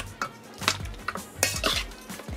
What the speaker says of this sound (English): Add the half of the green seasoning, as I mentioned.